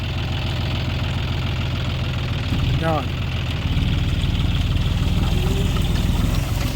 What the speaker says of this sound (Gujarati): સીધું ત્રીજામાં ટ્રેક્ટર ચાલે